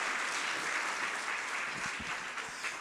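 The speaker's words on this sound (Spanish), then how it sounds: "Dele una ofrenda de palmas al Cristo de la gloria y que todos escuchen ese aplauso al Rey de Reyes." A church congregation applauding Christ, a dense, continuous crowd clapping that stays loud and even for the whole moment.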